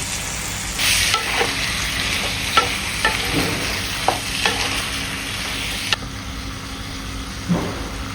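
Chicken frying in a pan with garlic, stirred now and then: a constant sizzle with repeated short scraping strokes of a spatula, close up, no talking.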